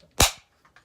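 An airsoft pistol fires a single sharp, loud snap up close, followed by a quick fade and a couple of faint small clicks.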